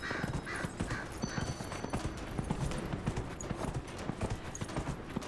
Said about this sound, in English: Here we go, we're racing a horse.